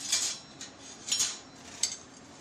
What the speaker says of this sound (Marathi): आता आपल्याला ह्याच्यातच सगळ्या गोष्टी मिक्स करून घ्यायच्या आहेत।